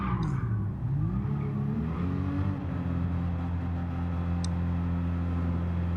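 A Subaru BRZ in a racing video game, its engine droning steadily and climbing in pitch as it accelerates down a straightaway, loud and continuous with no talk.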